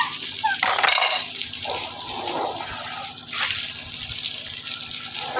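Water runs from a tap meant for washing dishes in a continuous splashing stream, with a brief dip in flow partway through, and no voices.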